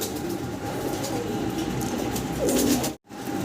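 A large pair of Spanish pigeons cooing in a loft, low throaty coos rising over a steady broadband noise bed, near and moderately loud, with a brief dropout near the end.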